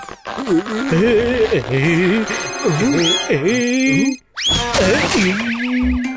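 A melodic phone ringtone plays loudly and repeatedly, pausing briefly before starting again, with a cartoonish, bouncy tune.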